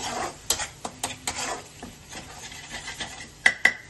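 Chicken masala is stirred in a pan for chicken kosha, with irregular scraping and clinking strokes of a utensil against metal over a faint sizzle, close and without talk.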